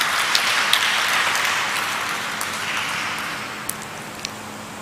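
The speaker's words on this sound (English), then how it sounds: "Can we please have a round of applause?" An audience at an environmental recycling event applauds in a steady, dense wash of clapping that holds evenly throughout, with a few sharper individual claps standing out and no voices.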